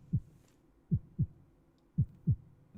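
A video game heartbeat effect pulses in repeated double thumps, five deep beats in uneven pairs, clear and isolated with no talk.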